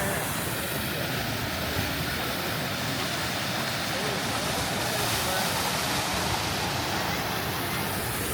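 A waterfall in Waimea Canyon on Kauai roars as a dense, steady rush of water, loud and unbroken throughout.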